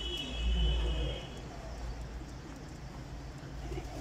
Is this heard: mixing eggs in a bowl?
no